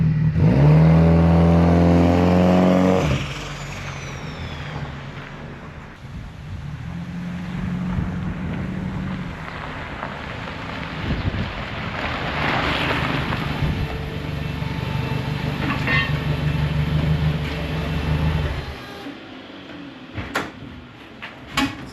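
A Volkswagen Beetle with a transmission fault, stuck in third gear and dropping to neutral instead of second, drives around the block: an engine rev at the start, then a steady rumbling drive with wind noise, ending in a few sharp clunks.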